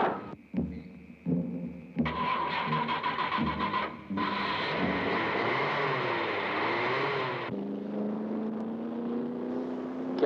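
A car engine cranking and catching, then settling into a steady running drone that shifts pitch, close and fairly loud, with no talk over it.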